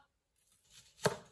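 A single crisp knife chop through an onion on a cutting board, a sharp near thud after a short quiet pause, with no talking.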